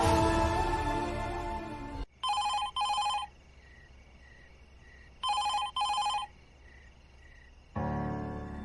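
A telephone rings in paired electronic bursts as a call is placed in a domestic drama scene, two double rings separated by a quieter ringback tone, with musical background at the start and end.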